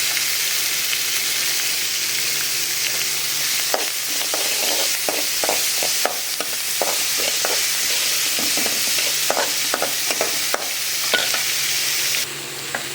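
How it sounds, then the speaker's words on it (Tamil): Onion, dried red chilli and curry leaves sauté in hot oil in a pan, giving a loud continuous sizzle broken by repeated scraping and clacking stirs, close up with no voices. "கூடவே கருவேப்பிலை, இந்த வெங்காயத்தை இதில் ஆட் பண்ணுறேன்."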